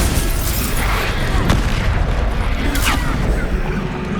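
Spell blasts from Bombarda or Repulsor in Hogwarts Legacy combat, loud booming bursts layered over a dense, continuous din of battle effects, with a couple of sharper cracks standing out.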